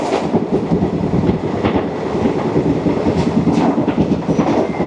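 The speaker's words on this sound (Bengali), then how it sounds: "কিন্তু ট্রেন চলছে 100-এর ওপরে।" The Paharia Express runs at over 100 on a single-track line, giving a loud, constant rumble with rhythmic clickety-clack from the wheels and occasional sharper rattles, heard close from on board.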